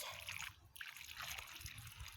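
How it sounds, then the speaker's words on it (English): Water pours and trickles steadily onto the soil around a newly planted Snow Queen Lawson false cypress, a close, continuous splashing wash heard alone without talk. "I'm gonna water it some more"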